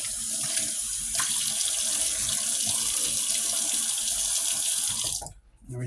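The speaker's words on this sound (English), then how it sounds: "This time I'm going to put some cold water." Cold water runs steadily from a tap while a baby doll is bathed, a continuous close splashing hiss that cuts off abruptly near the end.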